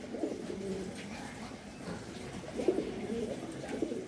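Giribaj high-flyer pigeons coo steadily in a dense, overlapping murmur, several birds calling at once in a continuous low warble.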